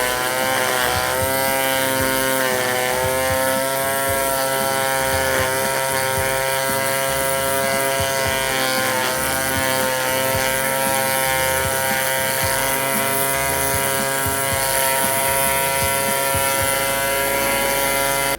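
A SKIL battery grass trimmer edges a lawn, its line spinning with a continuous high buzzing whine and slight fluctuations as it cuts along the edge, loud and close throughout.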